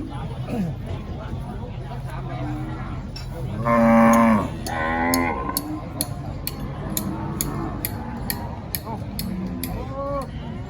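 Cattle low at a busy early-morning livestock market, with one loud, long moo near the middle followed by a second, then a fainter call near the end, over steady crowd murmur and a repeated ticking sound.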